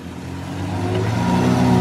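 A Toyota Tacoma truck and a small RC car accelerate side by side in a drag race; an engine drone rises steadily in pitch and loudness, close and continuous, with no talking.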